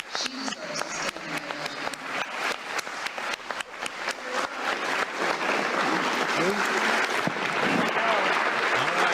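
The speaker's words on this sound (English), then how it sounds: "thunderous applause" A standing ovation from a crowd: loud, thunderous applause that opens with sharp individual claps and swells into a dense, sustained roar of clapping, with voices faintly mixed in.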